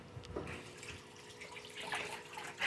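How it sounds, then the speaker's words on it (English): Water running from a kitchen tap into a sink while hands are rinsed, a soft continuous splashing flow at low level with brief louder spatters near the end. "because they want to see me rinsing my hand off"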